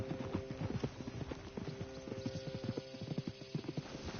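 Horse hooves trot in a PS4 video game, a quick steady clip-clop of close, moderately loud hoofbeats running on throughout with no pause.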